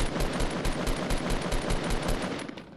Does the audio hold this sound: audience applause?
no